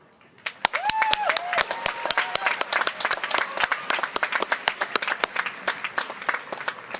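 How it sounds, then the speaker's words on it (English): A room full of students bursts into clapping at a convocation ceremony, rising quickly into sustained, lively applause with crisp individual claps near and far and a brief tonal sound near the start. "I want you to give yourself a round of applause"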